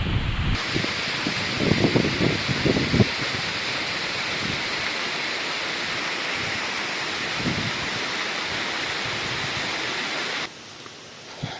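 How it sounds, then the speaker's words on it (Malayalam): A forest waterfall at Kuskem in South Goa, swollen after rain, pours in a steady, loud broadband roar that runs unbroken throughout, with a few bumps and rustles near the recorder early on. "നല്ലൊരു വാട്ടർഫോൾസ്"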